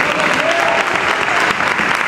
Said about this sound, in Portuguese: aplauda Jesus pela vida para a irmã, pelo seu irmão.